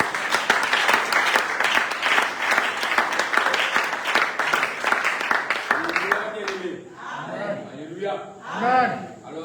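A church congregation applauding a brother, dense steady clapping for about six seconds that fades as voices and laughter take over.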